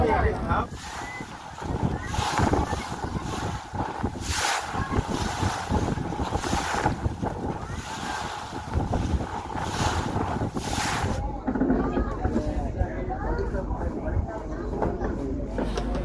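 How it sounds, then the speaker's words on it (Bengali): A boat motoring along beside the Sundarbans mangrove forest, its engine a steady near drone with wind buffeting and water noise, and voices faintly under it. "বোট আমাদের এবার এগিয়ে চলেছে ম্যানগ্রোভ ফরেস্টের দিকে"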